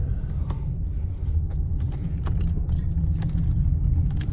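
A car driving along the road, with a steady low engine and road rumble, close, under faint clicks and small rattles from inside the cabin, no talking.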